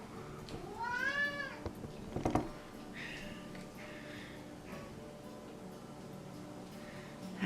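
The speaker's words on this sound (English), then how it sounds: "That's the cat." A cat meows once, a clear rising-and-falling call near the start, followed by a brief knock and faint room sounds in an otherwise quiet indoor space.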